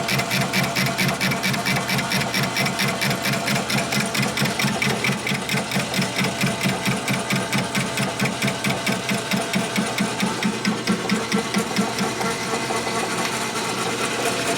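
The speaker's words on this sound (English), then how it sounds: "Here's the cutter cutting now. Actually got chips coming off now." A machine cutter cuts metal on a Harley engine part, throwing off chips, with a loud, steady, fast rhythmic chattering that pulses evenly for the whole stretch, close and alone without talk.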